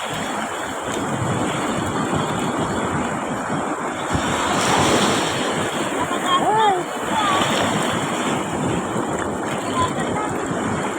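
Surf washes steadily onto the beach at Bauang, La Union, a broad continuous roar of breaking waves mixed with gusty wind buffeting the microphone and faint distant voices.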